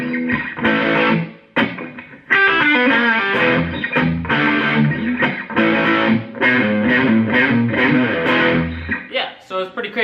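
An electric guitar through high-gain distortion plays a choppy, AC/DC-style rock riff of repeated chord stabs and short gaps, loud and close throughout.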